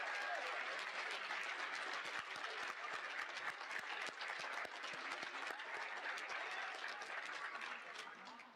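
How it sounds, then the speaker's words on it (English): An audience at a community college high school equivalency graduation applauds its graduates, a steady roar of many clapping hands with sharp individual claps standing out, holding level before easing slightly at the end. "Let's give our graduates a round of applause."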